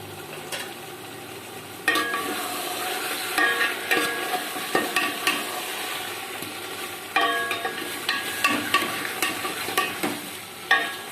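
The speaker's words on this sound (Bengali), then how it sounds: "প্রায় আমি 15 মিনিট ধরে কষবো।" Chicken being stir-fried in a pan, with a constant sizzle and repeated rhythmic scrapes and knocks of a spatula against the pan, close and with no voices.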